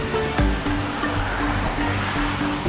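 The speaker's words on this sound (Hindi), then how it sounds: "पानी पानी हो रहा है चारों ओर, पानी पानी।" Floodwater of the Yamuna river rushing through Delhi, a loud continuous churning roar close by, with a brief thump near the start and no talk.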